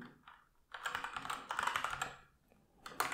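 Quick clattering keystrokes on a computer keyboard while code is typed, close and crisp in uneven bursts separated by brief pauses.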